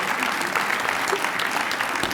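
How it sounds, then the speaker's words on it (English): An audience at a leadership award event in Los Angeles applauds an honoree, giving dense, sustained clapping that fills the room at an even level throughout. "So, Mayor Antonio Villaraigosa, we should give him a round of applause."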